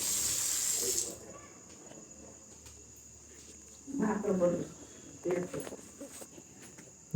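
Tap water running outdoors is poured over feet before entering a house during a village festival, a steady splash that starts right away, then later bursts of water and movement under a continuous insect-like whine, with voices now and then.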